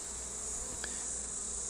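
Honey bees buzzing steadily around an open Flow Hive during a brood inspection, a continuous close insect drone with one brief brighter pass, and no voices.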